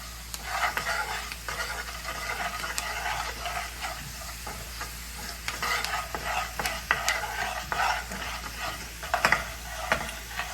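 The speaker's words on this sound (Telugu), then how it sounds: "మిక్సింగ్ మిక్సింగ్ మిక్సింగ్, చాలా బాగా మిక్సింగ్." A spoon steadily stirs cumin and spices in a hot pan for an okra (ladies finger) curry, with continuous scraping and soft sizzling throughout, close and fairly loud, and no voices.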